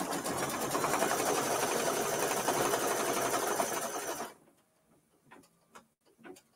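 A single-needle embroidery machine stitches a placement line for a small hat design on a mini quilt with a rapid, steady mechanical whir. It stops abruptly after about four seconds, followed by a few faint clicks and taps.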